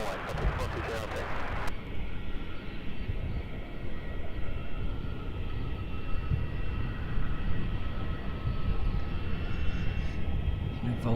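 A jet airliner starts its takeoff roll on runway 27 at Melbourne Airport as a continuous loud engine roar that builds slightly across the clip, heard from a distance in the open air.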